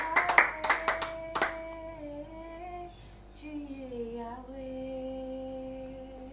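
A congregation at a prayer service claps in a short burst of sharp, close hand claps over the first second and a half. Sustained tonal sound that resembles singing or music follows and carries on.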